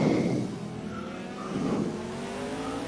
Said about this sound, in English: I will never get enough of that engine note.